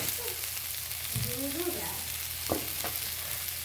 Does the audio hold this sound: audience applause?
no